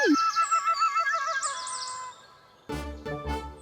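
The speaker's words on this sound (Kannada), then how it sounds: "ಪಕ್ಷಿ ಕೂಡ ನಮ್ಮನ್ನ ನೋಡಿ ನಗ್ತಾ ಇದೆ ಕಣೋ" A cartoonish bird gives a warbling, laugh-like call in quick rising and falling bursts, followed by a louder, buzzy musical sound.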